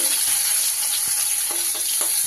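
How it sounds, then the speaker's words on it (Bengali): Fresh rohu fish pieces fry in hot oil in a pan, giving a steady, loud sizzle with occasional crackles and pops throughout. "মাছগুলোকে এইভাবে আমি উল্টো পাল্টে ভেজে নিলাম সব কটা মাছ আমার ভাজা হয়ে গেছে"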